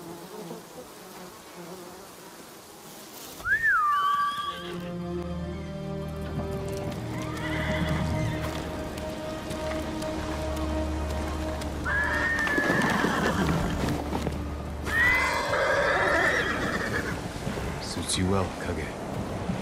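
A horse in the video game Ghost of Tsushima on Iki Island whinnies and snorts while hooves clip-clop, with bees and flies buzzing around it and someone talking at times.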